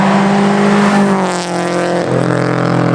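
A Subaru BRZ with a loud catless Tomei exhaust drones and revs close by, its deep resonant note sliding down in pitch and then climbing again, loud and alone.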